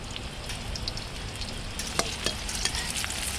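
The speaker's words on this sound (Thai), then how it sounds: "ตัวฝักยาวครับ ใช้ไฟอ่อนๆในการทอดนะครับ" Long beans frying in oil over low heat, a soft continuous sizzle with a few light clicks from stirring near the end, close and fairly quiet.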